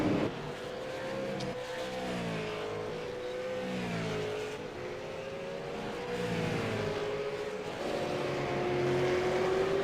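V8 Supercars race cars at Brands Hatch, a Dayco Holden among them, roar past as a steady engine drone with rising and falling revs and continuous mid-level volume throughout.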